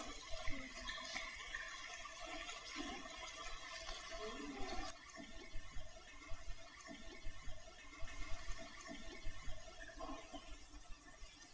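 Water splashing and gurgling as it is poured out of a gourd, an uneven trickling, sloshing stream, fairly faint against a soft background.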